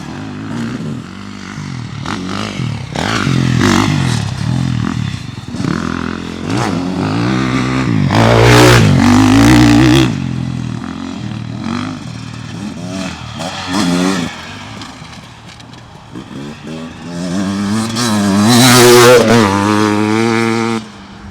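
A 2025 Beta RR X-Pro dirt bike rides a motocross track with jumps, its engine revving and dropping in repeated loud surges, sometimes near and sometimes farther off.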